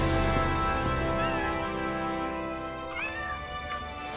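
A cat meows in Final Fantasy 7 Rebirth, a couple of rising mews over dense, steady game music, clear but not loud.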